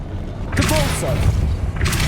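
A Depulso spell is cast in Hogwarts Legacy, producing a loud whooshing boom and thud that rolls on under a spoken voice, with a second surge of rushing noise near the end.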